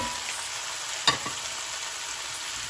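Bones and vegetables sizzle and fry in a pot, making a steady, close hiss throughout, broken by one brief clatter partway through.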